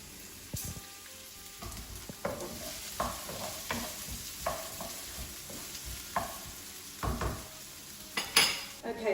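Chopped vegetables sweat in a pan over a low gas flame, with a faint steady sizzle under repeated close clinks and scrapes of a wooden spoon stirring against the pan, and no talking.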